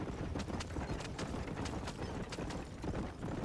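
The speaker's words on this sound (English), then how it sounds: "eu nunca andei num cavalo na vida real e agora eu tô aqui guiando esse aqui" Horse hooves clip-clop in a quick, even rhythm while riding in the video game Red Dead Redemption, close and steady for the whole stretch.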